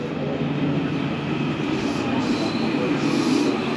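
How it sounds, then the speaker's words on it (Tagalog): A train ride in Taiwan, heard from inside a crowded carriage as a steady loud low rumble and roar of rolling wheels, continuous and without clear speech. "Sakali tayo ng train."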